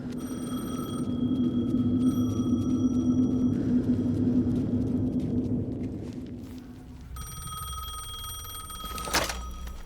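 An old telephone rings repeatedly inside Alan Wake 2, its bell tones sounding over a low rumbling ambience that rises and fades, before a sharp clack near the end.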